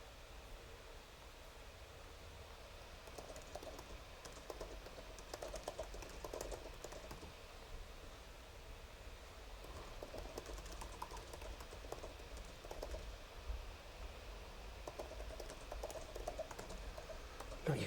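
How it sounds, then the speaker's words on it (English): Soft, rapid clicking of keys on a computer keyboard continues throughout over a faint background hiss, fairly close but quiet. "you can hear me typing"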